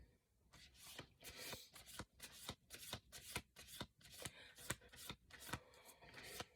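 A deck of oracle cards is shuffled by hand in quick, rhythmic riffles and slaps, each burst crisp and close, repeating steadily throughout at low overall volume.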